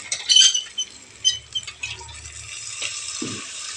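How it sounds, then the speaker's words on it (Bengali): Water poured into a hot frying pan holding fried spices and potatoes for a paneer curry, a sharp sizzle and spatter with scattered clinks, fairly loud and close, settling to quieter crackling. "আমি এখন জল দিয়ে দিব।"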